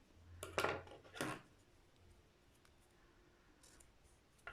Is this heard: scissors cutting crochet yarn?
yes